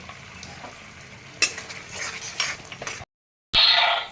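Spoon stirring spice masala with tomato paste in a pan for a rajma curry, scraping clinks and soft sizzling with a sharp clatter midway, a brief silence, then a louder bright sizzle as ingredients hit the oil.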